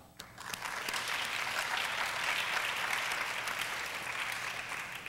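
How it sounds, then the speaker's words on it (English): Steady applause from an audience at a student scholars week program, rising quickly and holding even and full for several seconds with no voices over it. "So I think you guys deserve a round of applause."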